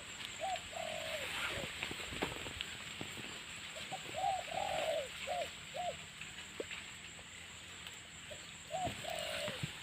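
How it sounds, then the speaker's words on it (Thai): Mountain doves coo back and forth in short, repeated calls, some near and some farther off, scattered across a steady outdoor background with a faint constant hiss. "มาขันโยนใส่กันเลย"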